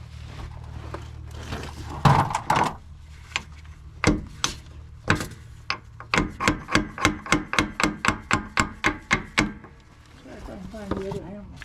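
Hammer blows struck during a vehicle rear differential repair: a few scattered hits, then a fast run of about a dozen evenly spaced loud metallic strikes, with people talking nearby at times.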